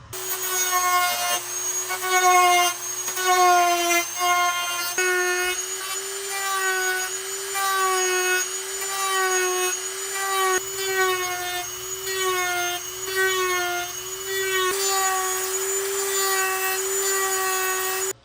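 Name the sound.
Dremel rotary tool cutting plastic armor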